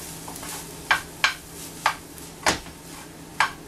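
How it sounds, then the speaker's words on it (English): A spoon stirs a portabello mushroom, quinoa and kale stuffing mixture in a pan, giving five or six separate scraping clicks at uneven intervals over a soft, steady sizzle. No one speaks. "I want to add this now to our mushroom. Mixture. I'm going to give it a good stir."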